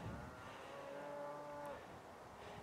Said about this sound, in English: If you can hear me over the cows.